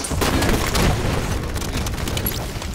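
Rocket blast in the Halo multiplayer shooter, a loud broadband boom filling the moment with dense, sustained rumble and crackle, no voices over it.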